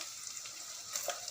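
Onion and fenugreek seeds frying in hot oil give a soft, steady sizzle with a few faint pops and crackles, quiet and close, continuing without talking.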